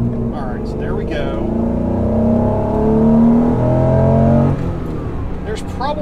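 A Honda NSX with about 320,000 miles and a hesitation fault pulls through second gear, its engine note rising loud and close inside the cabin, with a voice briefly at the start and end.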